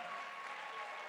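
Church congregation clapping during a Spanish-language worship service, a brief, dense and steady burst of many hands heard from a distance.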